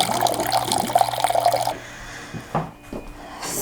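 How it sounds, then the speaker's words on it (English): Fish pieces go into a bowl of water with Himalayan salt and organic lemon while making Moroccan fish, giving a steady running-water wash followed by a few soft splashes and drips, close and without talk. "we're gonna put the fish in water with lemon and salt."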